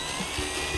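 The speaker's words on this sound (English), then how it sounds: "take our drill and screw it away." A power drill whirs briefly as it drives a screw into a toy school bus, a short close mechanical buzz with no talking.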